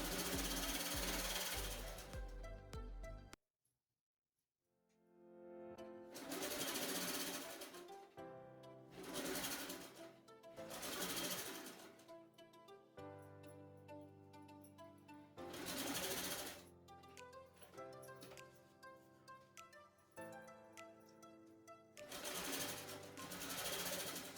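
A sewing machine runs in repeated short bursts while stitching a blouse lining, its fast rhythmic clatter starting and stopping with quiet pauses between runs.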